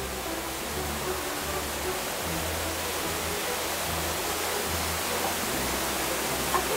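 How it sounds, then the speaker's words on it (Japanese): Otaki waterfall in Niigata, a fall whose inner side can be walked behind, pours in a steady dense roar with a low rumble underneath, continuous and fairly close throughout. "これが大滝です。"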